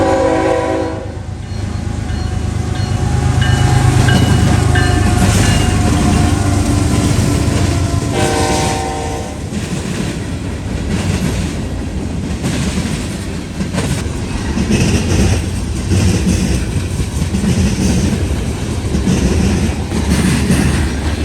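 Norfolk Southern train .116, led by NS-8102 in Pennsylvania Heritage paint, passes on a cold morning on the Dayton District, sounding loud horn blasts over the heavy rumble and clatter of the cars rolling by close.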